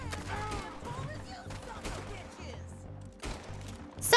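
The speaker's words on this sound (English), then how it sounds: "I shoot you in the leg." Red Dead Redemption 2 gunplay brings a rapid string of close, sharp gunshots and scattered cracks mixed with game ambience, while someone talks over the shooting.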